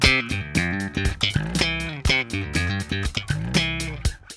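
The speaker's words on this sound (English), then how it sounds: "Let's just practice that ending lick." A short melodic guitar phrase of plucked notes, played alone with a clear rhythmic pattern and a few pauses between groups of notes.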